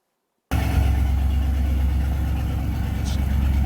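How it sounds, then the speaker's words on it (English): Homemade buggy engine fitted with homemade mufflers, idling steadily with a low, muffled drone that starts after a brief silence and holds even and close throughout. "After the muffler that I made there were installed, it's a lot lower, and it's hard to tell in a video, but it's quite a bit quieter"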